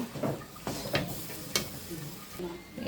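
Chana dal frying in ghee, a soft, low sizzle with several light stirring scrapes and clinks spaced through, quiet and close.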